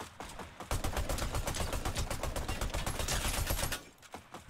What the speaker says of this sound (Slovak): A koho tu máme, tak tu strieľa. Z auta.